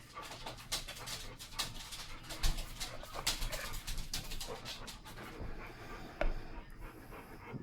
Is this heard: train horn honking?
no